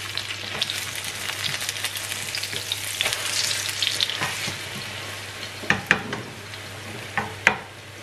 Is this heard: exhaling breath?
no